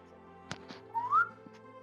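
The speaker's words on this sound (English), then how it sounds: "You all hear a low whistle." A low, eerie whistle rises briefly out of the cellars of a haunted manor, faint and short, with a few soft knocks and rustles around it and no talk.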